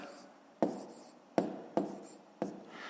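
Pen or pencil strokes tap and scratch on paper as multi-digit numbers are written by hand for a column multiplication, four short sharp marks spaced about a second apart, close and clear in a quiet room with no voices.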